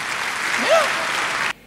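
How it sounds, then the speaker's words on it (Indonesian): Church congregation bursting into hearty applause for God, a dense even roar of clapping with a brief voice rising over it before it cuts off abruptly. "Tepuk tangan yang paling meriah buat Tuhan."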